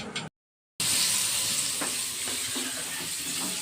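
Chicken popcorn pieces fry in hot oil, a dense, continuous sizzle broken by a brief silent gap near the start, with a few faint clicks of stirring mixed in and no voices.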